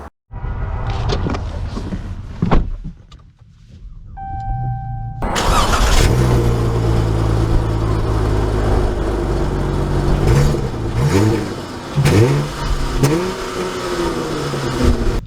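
A 2023 Dodge Charger Hemi Orange Edition, rear-wheel drive, cranks and fires up with a loud rev, then idles and pulls away, the engine rising and falling through several revving surges up close.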